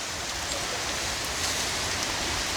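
Rain pours steadily beside a tilapia pond, a dense, even hiss of drops on water and surfaces that holds at a constant level without any voices.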